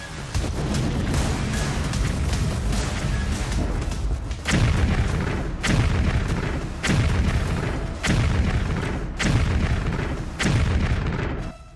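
Heavy blasts from air strikes in the war in Ukraine, a rapid series of six or seven loud booming explosions roughly a second apart over a continuous rumbling din, with no voices.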